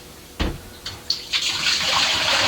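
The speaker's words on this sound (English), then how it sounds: "Then fill the keg with cold water to mark 1." Cold tap water pours into a Mr. Beer brewing keg after a few bumps and clunks, building into a steady, close rushing fill.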